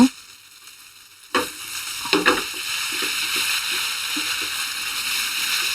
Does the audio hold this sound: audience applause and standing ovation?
no